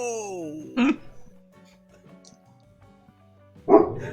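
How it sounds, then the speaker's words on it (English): A dog gives two short, sharp barks a few seconds apart, fairly close, over a quiet background with faint voice-like tones. "Good doggy."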